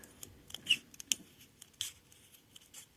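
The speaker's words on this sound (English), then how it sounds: "the way I trim this down, some scissors" Quiet, close scissor snips trimming material on a golf ball art piece, in an irregular series of crisp clicks and short cuts against a near-silent background.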